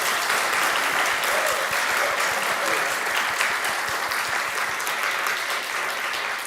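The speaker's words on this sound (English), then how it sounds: "you can clap." Sustained applause from a synagogue congregation at a Shabbat evening service, a dense, steady wash of many hands clapping at even loudness throughout, with no voices standing out.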